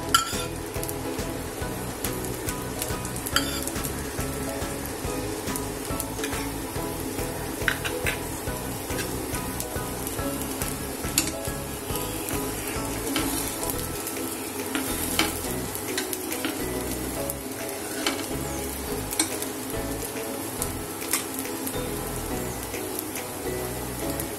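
A mixed-dal dosa, its batter ground with red chilli, fries on a pan over a gas flame as oil is poured around its edges, giving a steady, close, crackling sizzle that runs unbroken for the whole stretch, with faint scrapes and clinks, and no talking.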